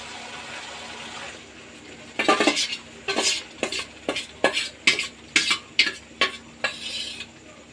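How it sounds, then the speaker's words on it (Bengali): Mutton is stirred and fried with spices in a pan; a quiet low sizzle is followed by a run of sharp, rhythmic scrapes and clinks of a utensil against the metal, about a dozen strokes, close and clear. "এটা এবারে কষিয়ে নিই, কষিয়ে নিয়ে মাংসটা দিয়ে দিচ্ছি"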